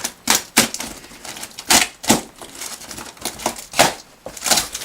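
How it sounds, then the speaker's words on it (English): Box cutter slicing through packing tape on a guitar shipping box, a quick series of sharp rasping strokes close up, about seven or eight short bursts with brief pauses between them. "I'm just going to slice that tape."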